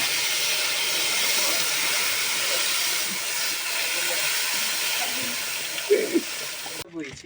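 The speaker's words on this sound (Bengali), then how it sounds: "এবারে জল ঢেলে দিচ্ছি" Water poured into a hot pan while cooking a sour-spicy snakehead fish curry gives a steady, broad steaming hiss and sizzle, fairly soft, with a few knocks and clinks near the end before it cuts off abruptly.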